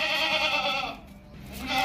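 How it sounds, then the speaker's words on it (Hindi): A castrated two-tooth goat raised for Qurbani bleats in a long, loud, strained call that tails off, then starts again near the end. "2 दांत कुर्बानी वाला माशाल्लाह पला हुआ खूबसूरत बकरा है"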